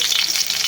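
Curry leaves, green and dry chillies and tomato sizzle in a hot pan with a steady, bright crackle, close and loud throughout the brief moment.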